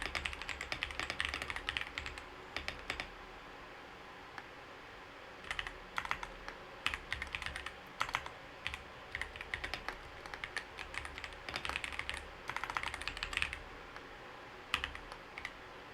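Steady typing on a computer keyboard, quick bursts of close key clicks separated by brief pauses over a quiet room background.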